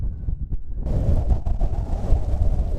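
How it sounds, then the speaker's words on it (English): Strong wind blows outdoors in Kansas, buffeting the microphone with a loud, continuous low roar that gusts and thickens into a broad rushing noise after the first second, with no one talking. "I cannot believe how windy it is in this state."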